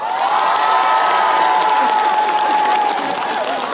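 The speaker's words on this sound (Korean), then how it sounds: "박수 한번 주세요" Audience at an outdoor winter trot concert by a singer applauding and cheering, a loud, dense wash of clapping with shouts and whoops filling the whole stretch without pause.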